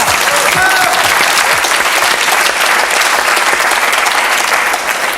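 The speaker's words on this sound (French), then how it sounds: "Bravo, on applaudit Alain Souchon" A television studio audience applauds Alain Souchon, loud dense clapping that fills the space continuously from start to finish with a faint voice briefly audible early on.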